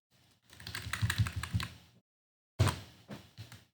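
Computer keyboard typing while code is edited: two quick bursts of close, crisp key clicks separated by a short silent pause, with no voices.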